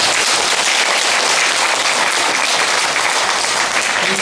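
Loud, dense applause from an audience at a Buddhist meditation discussion fills the room evenly and steadily, close and continuous with no talk over it.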